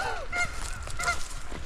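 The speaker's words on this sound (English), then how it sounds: "they're wild mountain geese" Wild mountain geese honk out on a frozen lake, giving a few nasal calls at moderate distance with some wind and ambient noise.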